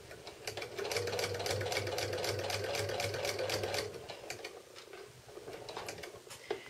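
A sewing machine runs steadily for about four seconds while stitching a finishing binding, then stops, leaving soft handling noises close by.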